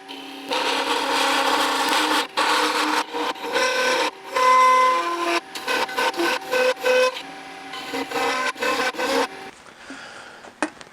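Wood lathe turning a bowl as cutting tools, including carbide, scrape the spinning blank, a loud rasping, humming cut broken into many short passes with brief pauses, close up.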